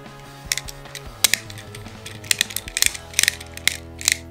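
A Beyblade Regalia Genesis energy layer clicks as it is turned by hand: a close series of sharp plastic ratchet clicks, irregular and quick, with short pauses between bursts.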